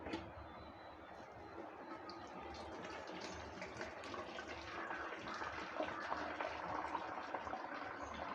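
Lemon-curdled milk poured through a cloth-lined strainer while making rasgulla, a soft, continuous trickling and splashing of liquid, faint and steady, with no talk over it.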